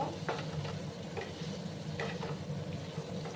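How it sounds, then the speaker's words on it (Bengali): Potatoes sizzling steadily in hot oil, with a few light scraping stirs breaking through the continuous crackle. "ভালো করে লাল লাল করে আমি আলুগুলোকে একটু ভাজা ভাজা করে নেব।"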